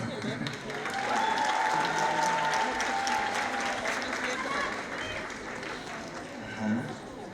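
A concert crowd claps continuously at full strength, the applause swelling early and then gradually thinning out toward the end.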